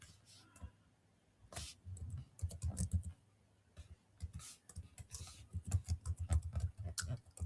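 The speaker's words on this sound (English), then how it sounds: "Then I will type the person's email address," Fast typing on a computer keyboard as an email address goes in, dense clattering bursts of keystrokes with short pauses, close and moderately quiet, no talking.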